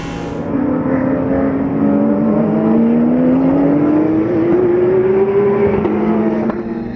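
The Porsche race car number 35 roars loud and close at full throttle, its engine note climbing steadily through a long pull before a brief shift near the end, with no talk over it.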